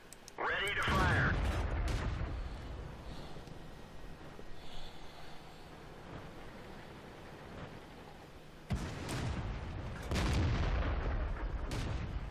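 A tank destroyer's main gun booms in World of Tanks gameplay, two heavy shots several seconds apart, each with a rumbling tail over low engine drone.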